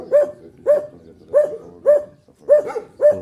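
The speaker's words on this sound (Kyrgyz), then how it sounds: "Азыр күчүктөр кыйкырып атты." Puppies at a rural village house bark in a steady series of six short, loud yelps at even intervals, close by, with faint whining between them and no talking.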